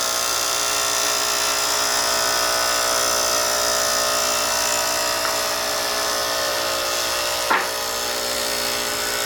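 Steady high whine of a pen being polished on a fine 50,000-grit stone polish, continuous and fairly loud throughout with a brief sharper scrape near the end.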